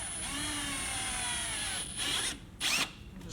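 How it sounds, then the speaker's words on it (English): A power drill with a 5/16 bit whines steadily while boring holes through a fender flare on a 2024 Polaris Xpedition, close and continuous, then stops and gives a couple of short bursts near the end. "going to take our drill with 5/16 drill bit, and we're just going to drill the center of the remaining holes"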